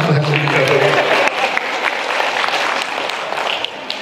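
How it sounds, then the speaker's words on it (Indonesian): Audience applause at a parenting seminar, a dense, steady clapping that fills the room for about four seconds, beginning over a voice and easing slightly toward the end. "Tepuk tangan buat"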